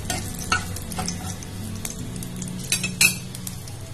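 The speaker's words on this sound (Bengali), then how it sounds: "এবার এই তেলের মধ্যে দিয়ে দেব কালো জিরে, দেব দুটো চেরা কাঁচা লঙ্কা" Black cumin seeds and two slit green chillies fry in hot oil for a fish mustard curry, giving a steady close sizzle with a few clinks of a spoon against the pan.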